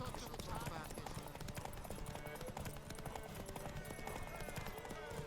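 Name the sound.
horse Roach galloping hooves in race, from video game The Witcher 3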